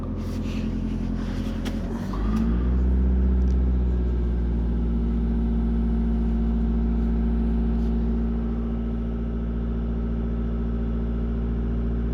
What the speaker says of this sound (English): I will rev it up